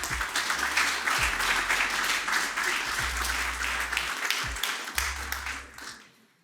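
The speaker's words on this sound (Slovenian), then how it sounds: "Hvala lepa za te čudovite spodbudne aplavze." Audience applause at a university award ceremony honoring the Rector's Award, sustained clapping from a full hall that swells steadily and then fades out near the end, with no voices over it.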